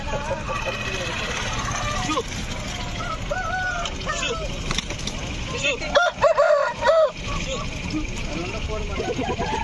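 Rooster crowing among other fowl at a weekly chicken market, several bright crows rising over a noisy crowd with constant talk and a distant engine running.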